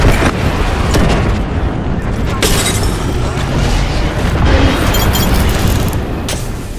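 Airstrike explosions in the video game Apex Legends, with heavy rumbling booms and blasts rolling one after another at close range, under excited talk.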